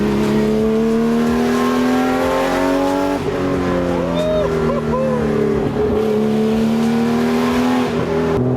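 RUF Porsche sports car engine held at full throttle on a mountain road, a loud continuous droning roar with rising and falling revs, brief tire squeal and a voice talking over it.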